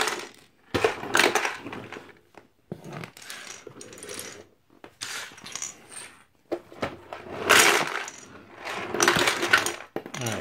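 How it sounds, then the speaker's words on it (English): Lego pieces rattling and clicking as they are sucked into a Mr. Dusty toy vacuum from Jakks Pacific, irregular bursts of small plastic clatter close by over a light motor whir. "if I want to pick up these Lego pieces, you can hear them get pulled in."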